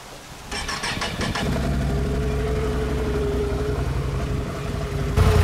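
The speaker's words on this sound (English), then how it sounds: "so I'm now ready to start the engine and check for leaks" A Can-Am Outlander 850 XmR ATV engine cranks with a rapid chattering starter burst, catches, and settles into a steady, loud idle that runs on close by before a brief rise at the end.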